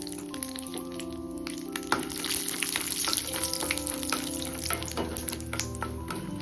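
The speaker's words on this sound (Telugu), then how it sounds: "ఇదే కడాయిలో కొద్దిగా నెయ్యి వేసి సిమ్లో పెట్టి 1/4 కప్పు బాదం పప్పుల్ని వేపుకోవాలి." Almonds frying in ghee in a kadai on low flame, a steady soft sizzle and crackle with occasional stirring scrapes, under quiet background music.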